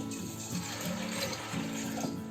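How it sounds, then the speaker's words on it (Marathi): Water pours into a pot of dried red chickpeas, a steady close gushing and splashing that continues without pause. "आता आपल्याला चण्यामध्ये आहे ना चण्यापेक्षा भरपूर पाणी ओतायचं आहे, कारण आपल्याला चण्यामधून पाणी काढून घ्यायचं आहे."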